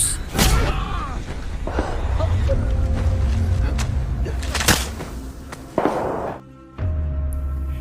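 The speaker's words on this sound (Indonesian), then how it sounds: "Juba mengambil kesempatan itu dengan menembak tepat di kepala Matthew." Sharp gunshot cracks from a dramatic film scene, a few loud bursts standing out over a rumbling soundtrack and background noise.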